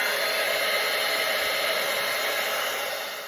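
A hair dryer blows steadily on wet watercolor paint, a constant close whooshing hum that slowly fades toward the end.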